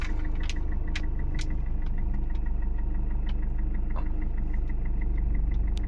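A manual car's engine hums at a steady idle-like drone while the clutch is eased out in first gear and the car begins to pull away, with faint rattles over the constant low rumble.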